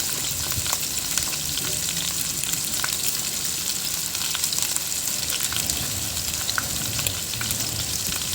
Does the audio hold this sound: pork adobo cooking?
yes